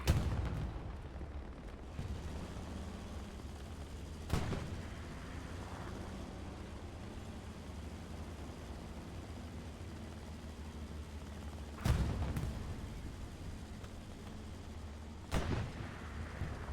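A Utah Beach match in a World War II video game rumbles with a constant tank engine drone, broken by four heavy booming cannon shots spaced several seconds apart, each loud with a rolling tail.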